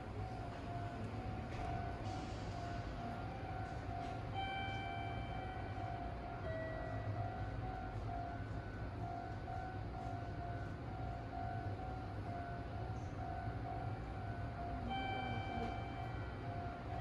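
Panorama Super express train passing through Miai station on track 2 without stopping, a steady loud rolling rumble of wheels and cars filling the whole stretch, with faint tonal whines and a distant horn-like note.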